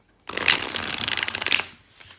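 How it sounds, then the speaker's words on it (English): A quick riffle of a 78-card tarot deck of good cardstock being shuffled close up, a dense papery flutter lasting just over a second, followed by a soft settling sound. "Let's see how this shuffles."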